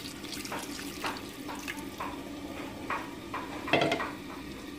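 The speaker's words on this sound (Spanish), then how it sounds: "Y ahora sí le vamos a poner lo que es la agua." Water poured from a tap or jug into a pan of chile de árbol salsa, a steady splashing pour with a few clinks and stirring sounds, fairly close and without talk.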